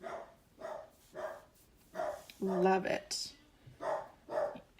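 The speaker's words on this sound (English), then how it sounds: "Excuse the dog barking. The mailman came." A dog barks repeatedly in the background of a room, roughly one bark per second, while someone talks over it in the foreground.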